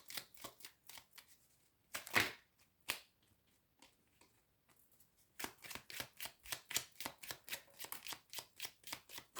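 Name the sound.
oracle cards being shuffled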